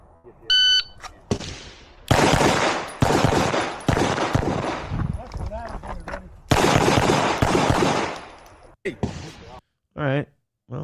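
At a shooting range, sharp gunshots ring out in clustered bursts and rapid strings with short gaps between, close and loud, mixed with shouted voices and a high electronic beep.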